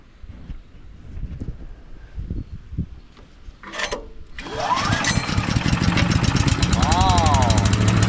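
A Champion 224cc chipper engine is pulled over a few times with scraping rasps, then fires and settles into a loud, steady, close-up roar that keeps running to the end. Someone talks briefly before it starts.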